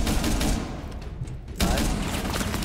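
Dense, continuous DMR rifle gunfire and other game weapon fire from a Rainbow Six Siege match, loud and sustained, briefly thinning in the middle before the fire picks back up.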